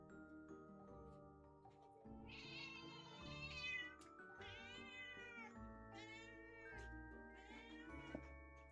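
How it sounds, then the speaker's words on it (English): A pet cat meows repeatedly indoors, a series of loud, drawn-out, whiny cries close by with short gaps between them. "I still love my cat, but she's just a little bastard sometimes."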